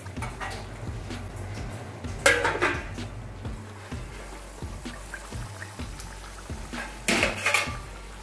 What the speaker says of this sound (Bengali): এবার আমি ঢেকে দেব যাতে ঝোলটা ফুটে ওঠে